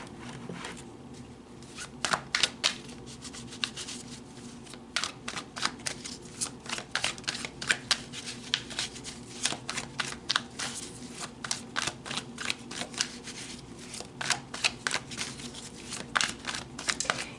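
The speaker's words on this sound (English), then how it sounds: "let's pull tarot and go deeper" Tarot cards are shuffled by hand for a long unbroken stretch, a dense run of quick, crisp riffling snaps and soft slides, close and fairly quiet with no talking.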